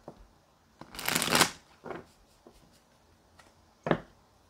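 Tarot cards being shuffled up close: a longer riffling burst followed by a few short, quick shuffles with quiet pauses between, no talking.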